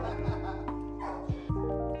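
Four puppies at an animal shelter yip, whine and whimper, with short high-pitched cries and sharper barks breaking through at close range.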